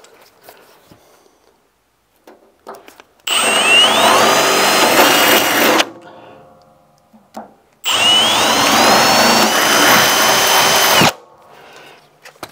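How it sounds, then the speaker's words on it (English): A power drill whines loudly in two sustained bursts of a few seconds each, drilling holes with a 7/32 bit on a 1971 Chevrolet Nova, separated by a short quiet gap with light handling noises. "we need 7/32 next to drill those two top ones"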